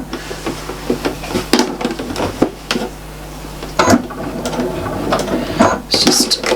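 Sewing machine doing slow free-motion stitching on a quilted Christmas tree mat, giving bursts of mechanical whirring and ratcheting clatter broken by short pauses over a steady low hum.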